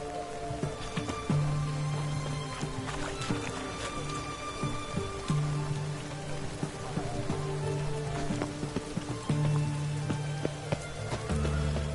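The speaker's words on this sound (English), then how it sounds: "What a downpour." Heavy rain pours down steadily in The Witcher 3, a dense continuous hiss of drops on surfaces, with low hums and occasional sharp knocks over it throughout.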